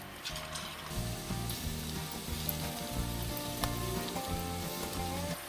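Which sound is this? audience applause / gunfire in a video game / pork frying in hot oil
pork frying in hot oil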